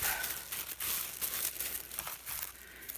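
Crinkly crafting material being folded up close by, a dense stretch of rustling and crumpling with brief pauses between handfuls.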